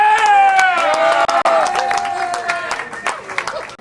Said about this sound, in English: By a round of applause, we're gonna pick our winner.